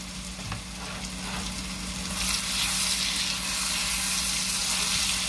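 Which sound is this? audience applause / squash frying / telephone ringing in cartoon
squash frying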